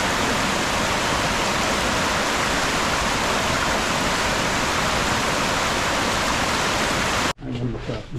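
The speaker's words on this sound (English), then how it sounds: "There's a cool little waterfall up here we'll show you." A small waterfall near Mendenhall Glacier in Juneau rushes in a steady, loud, close broadband hiss for about seven seconds, then cuts off abruptly to quieter ambience.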